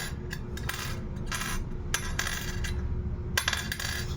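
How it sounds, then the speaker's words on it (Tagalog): Small 18-karat gold ring clinking and rattling on a hard surface several times, bright and tinny, over a steady background hiss. "Ganito yung tunog ng 18K guys."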